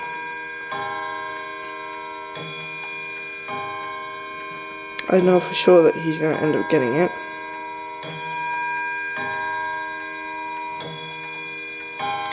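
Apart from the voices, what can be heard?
wall clock ticking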